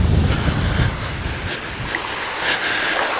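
Sea waves wash in on a beach at Blagoveshchenskaya near Anapa, a steady broadband surge mixed with gusty wind rumble against the microphone, with no talk over it.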